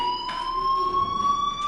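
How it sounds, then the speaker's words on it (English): Fire alarm in Life is Strange blaring as a continuous steady electronic tone with bright harmonics, loud and close, holding without a break. "Hey, do you hear that fire alarm?"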